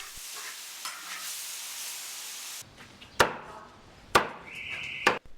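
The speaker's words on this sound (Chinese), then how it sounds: "炒菜用猛火" In a Hakka farmhouse kitchen, a large wok over a strong wood fire hisses with a steady sizzle, then turns to a quieter crackle broken by three sharp metallic scrapes and clanks of the spatula tossing the food.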